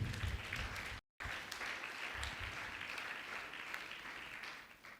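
Church congregation clapping in steady applause, a dense crowd patter filling the space continuously apart from a brief dropout near the start.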